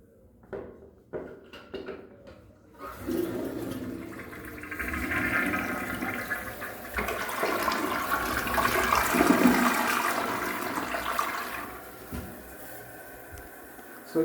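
A D&D Valen/Klipen toilet flushes and its bowl rinses, a few clicks giving way to a loud, sustained rush of swirling water that swells, holds, then tapers off near the end.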